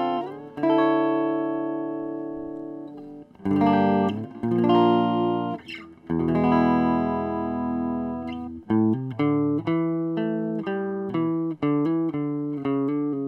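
Electric guitar played through a Kemper amp profile, a dry patch with chordal phrases and sustained notes, then choppier repeated stabs near the end, loud and alone with no talking.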